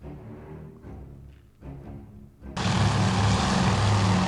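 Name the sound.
Japanese scout plane engine in the video game Task Force Admiral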